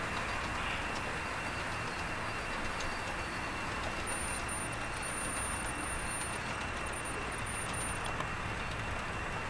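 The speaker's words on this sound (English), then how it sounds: "Quite a healthy train here." A long freight train rolls past Big Lake near the North Star Terminal, giving a steady, dense broadband rumble and roar that stays level and fairly close for the whole stretch with no voices.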